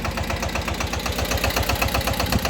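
A mini tractor engine idles nearby in a village with a rapid, even knocking chug that holds steady throughout, loud and unbroken, with no voices over it.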